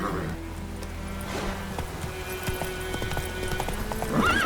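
Hooves of Roach, Geralt's horse in The Witcher video game, clip-clop in a rapid, steady galloping rhythm, close and loud, with a brief whinny near the end.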